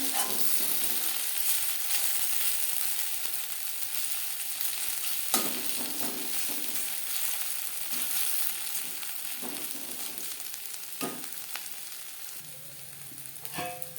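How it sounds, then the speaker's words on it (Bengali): Continuous bright sizzle of bitter gourd slices frying crisp in hot oil, with occasional soft clinks and stirring sounds from a pan nearby. "তিন চারবার উল্টে পাল্টে ক্রিস্পি করে ভেজে নেব"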